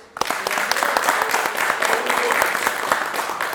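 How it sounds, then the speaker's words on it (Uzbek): Studio audience at an Uzbek talk show clapping in sustained applause after a call to clap, dense and steady, rising quickly at the start with some voices mixed in. "O'rtoqlar, hammaga qarsak."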